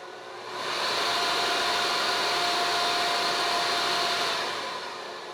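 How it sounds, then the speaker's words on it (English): Blacksmith's forge air blower running steadily on a portable forge, a continuous airy whoosh that rises in over half a second, holds even for about four seconds, then eases down, heard alone at close range. "I've got this blower here, which is already moving the correct amount of air"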